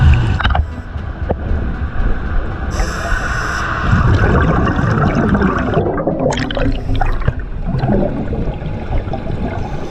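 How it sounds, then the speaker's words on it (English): A barge's engine rumbles low and steady nearby over the sloshing and gurgling of water around a dive site, with a brief mechanical whine partway through and no talking. "You guys hear that? It sounds like a much bigger boat."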